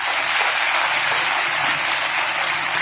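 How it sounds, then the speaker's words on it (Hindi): An audience at a women's Corona Warriors award ceremony in Balotra applauds a song with a dense, even wash of clapping that holds steady for a few seconds, with no talking. "कोरोना वॉरियर्स के लिए इस गाने के लिए आपकी तालियां मुझे ऐसा लगता है थोड़ी कम थी"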